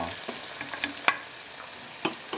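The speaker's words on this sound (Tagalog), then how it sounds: "haluin natin siya. Mix and mix." Pinakbet vegetables being stirred in a cooking pot, giving a few scattered scraping and clinking knocks over a soft low sizzle, fairly quiet and close.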